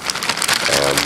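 Plastic bag holding pork belly and honey sriracha glaze being rubbed and squeezed by hand, giving a continuous close crinkling and rustling with soft squishy shifts throughout.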